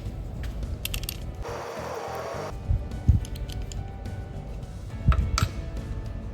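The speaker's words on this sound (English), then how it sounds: "Tighten the screw with a coin again." A coin tightens the blade screw on a TUCK IN series folding saw, a brief burst of close scraping and grinding with a few small metallic clicks and knocks around it.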